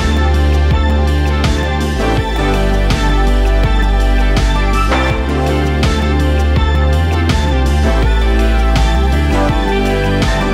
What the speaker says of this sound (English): If I just play the instrumental, this is what the final hook sounds like.